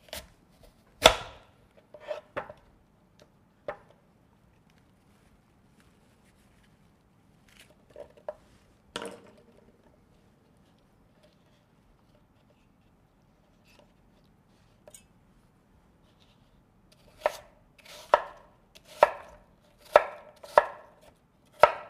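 An apple is chopped by hand with a knife on a cutting board in a home kitchen, giving sharp, close knocks, scattered at first and then a quick run of evenly spaced chops near the end, with no talking.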